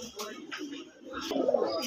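Pigeons coo softly from close by, a short low murmuring call over faint background noise, with a little talk mixed in.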